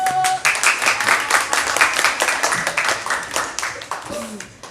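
Brisk clapping from a small group at an elementary school closing ceremony math-concept speaking contest, a few seconds of sharp, moderately loud claps that trail off.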